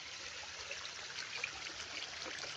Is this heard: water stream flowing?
yes